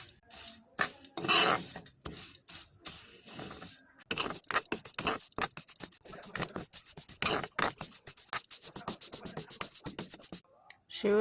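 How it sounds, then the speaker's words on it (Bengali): Vermicelli frying in butter in a wok, heard as close, irregular scraping and clinking of a utensil against the pan with soft sizzle, continuing in dense bursts throughout. "সেওই দিয়ে দিব। এখন ভেজে নেব।"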